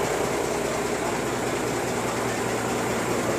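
A combine harvester's heavy engine runs steadily, a constant droning rumble with a broad mechanical hiss and no breaks.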